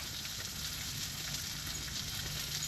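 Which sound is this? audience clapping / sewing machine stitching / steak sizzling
steak sizzling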